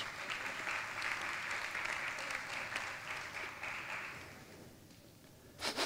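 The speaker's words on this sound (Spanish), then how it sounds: "Un aplauso para vosotros." A conference audience claps at a talk: a full burst of steady applause, fairly loud at first, then tapering and fading out, with a brief sharp noise right at the end.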